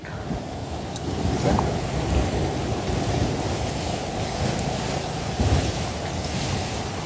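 Strong ocean waves at a beach in Bataan during a typhoon, a constant loud roar of surf mixed with gusty wind noise buffeting the microphone, with no talking.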